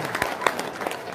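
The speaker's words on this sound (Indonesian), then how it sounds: "Tepuk tangan ya." Audience applause at a talk, a short burst of scattered hand claps with crowd murmur, fairly close and lively.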